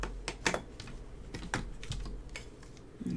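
A Sizzix Stamp and Spin Wheel clicks through its positions while a Christmas card is made at a craft table, giving a series of sharp, irregular clicks, fairly close and moderately loud, with no talk.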